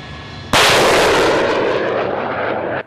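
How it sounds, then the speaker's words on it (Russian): Pantsir-S gun-missile air defense system opens fire during air defense exercises at Ashuluk, a sudden loud, sustained roaring blast that starts abruptly and holds steady for about two seconds before cutting off. "А это вступает в бой новейший зенитно-ракетно-пушечный комплекс «Панцирь-С»."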